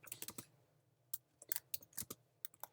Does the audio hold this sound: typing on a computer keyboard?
yes